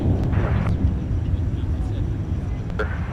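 A Delta Embraer jet at Minneapolis–St. Paul airport gives a low, steady engine rumble up close, with brief faint radio chatter over it.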